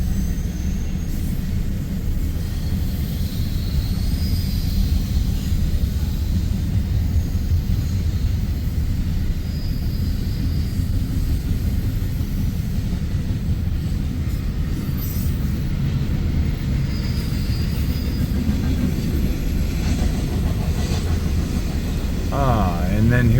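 A freight train locomotive throttles up on a hill in Blair, a heavy continuous low diesel rumble, loud and steady throughout with faint higher tones drifting over it.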